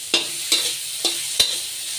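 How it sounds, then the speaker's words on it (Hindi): Poha with salt fries in a pan, a soft steady sizzle broken by four sharp scrapes of a spoon stirring at roughly half-second intervals. "अभी थोड़ा फ्राई होने दीजिए"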